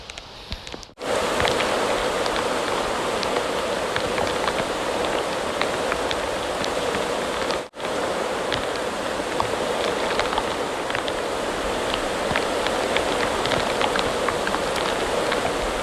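Heavy storm rain pours down in a forest, a dense, steady hiss of drops on surfaces that runs nearly the whole time, broken only by two brief dropouts.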